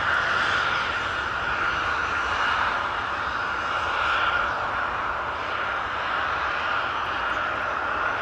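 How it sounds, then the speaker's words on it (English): At Amsterdam Schiphol, an Embraer 190 bound for London City spools its jet engines up while rolling straight from the turn onto takeoff. The engines give a steady, moderately distant roar with a hissing upper edge. "Now further up we have a narrow body that is doing a turn and burn start, an Embraer 190 going to London City."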